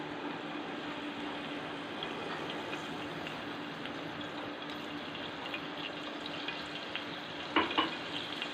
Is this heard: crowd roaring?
no